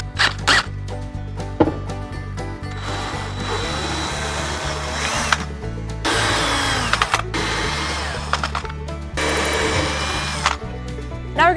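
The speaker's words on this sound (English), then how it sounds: "you're gonna wanna pre-drill your holes. So I'm gonna pre-drill them" A power drill whirs in several short bursts, pausing between each as it pre-drills holes in scrap softwood, with higher-pitched grinding during the drilling.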